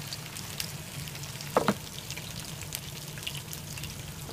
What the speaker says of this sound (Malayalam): കുറേശ്ശെയായി ഫ്രൈ ചെയ്തെടുത്താൽ മതി മീഡിയം ഫ്ലെയിമിൽ വെച്ച് ഫ്രൈ ചെയ്തെടുത്താൽ മതി